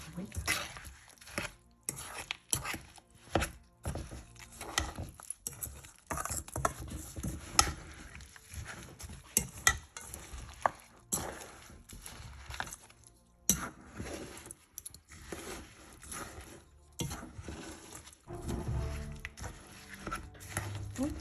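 Homemade cereal bar ingredients are mixed in a bowl, with rapid irregular crunching, tapping and scraping, faint and close, with occasional pauses.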